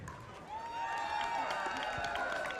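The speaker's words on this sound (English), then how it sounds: "I want you guys to cheer if you can hear me." A crowd at a pickleball center during a King of the Court night, cheering and applauding in a sustained wash of voices and claps that swells after the first half-second and stays loud to the end.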